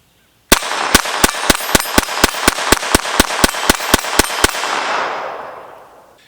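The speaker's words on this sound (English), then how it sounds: "I'm just going to go ahead and dump the mag onto the steel plate." A Taurus TX22 .22 LR pistol rapidly empties a magazine of 36-grain Remington Golden bullets at a steel plate: about fifteen loud, close, evenly spaced cracks, followed by a ringing tail that fades out.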